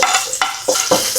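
Chopped onion and garlic sauté loudly in hot oil for a Filipino miso tilapia soup, with bright close-up sizzling and several quick scraping stirs against the pan. No voices.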